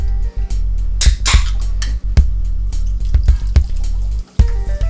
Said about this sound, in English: first you add the Sunkist soda